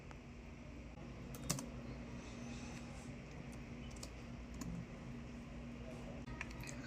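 Keys clatter on a computer keyboard in quiet, irregular bursts over a low steady hum, faint and close, with no voices while the typing goes on.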